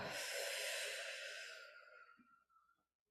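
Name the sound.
slow guided breathing: inhaling, holding and exhaling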